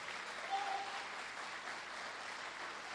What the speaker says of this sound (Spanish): Aplaudile. Aplaudile fuerte.